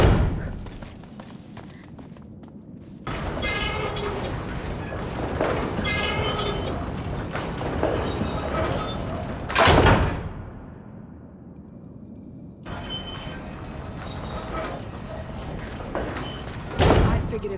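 Heavy mechanical thuds and a booming clunk sound as a crank mechanism shifts metal bars in the video game A Plague Tale: Requiem, set against a dense, rumbling game soundscape with a second solid impact near the end.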